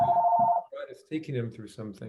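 A mobile phone rings with a steady electronic tone for about half a second at the start, then someone speaks over the quiet room while the ring stops.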